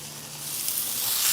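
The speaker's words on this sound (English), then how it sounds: "You hear that sizzle? You want to hear that sizzle." Ribeye steak sizzles on a hot Blackstone griddle, a steady bright hiss that swells slightly louder as it goes, with no talking.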